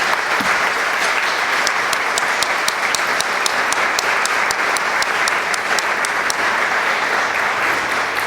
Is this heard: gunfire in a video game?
no